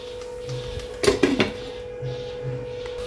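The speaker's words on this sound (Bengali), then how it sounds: "এবার আমি ঢাকা দিয়ে দিচ্ছি" A lid goes onto a cooking pot of sour-sweet hog plum chutney with a couple of quick metallic clanks near the middle, over a low steady hum.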